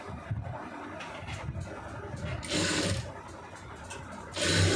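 A sewing machine stitches a blouse piece in short whirring bursts, with quieter pauses between runs of the needle.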